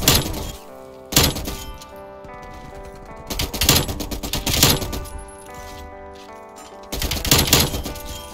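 An M60 machine gun fires in a first-person shooter game, loud rapid bursts repeating in several clusters with brief pauses between them, mechanical clatter and shell rattles audible.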